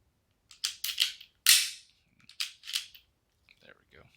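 Pistol dry-fired for laser training: a few sharp, close mechanical clicks and snaps in an irregular sequence, with short quiet gaps between them and faint trailing handling noises.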